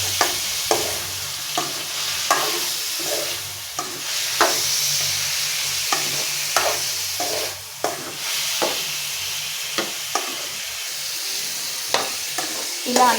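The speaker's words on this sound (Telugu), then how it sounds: "ఇలా అన్నీ మిక్స్ అయ్యేలాగా మిక్స్ చేసుకొని కలుపుకొని" Tomato curry is stirred and mixed in a hot pan: a steady, close frying sizzle runs throughout, broken by regular scraping strokes of the spoon roughly every half second.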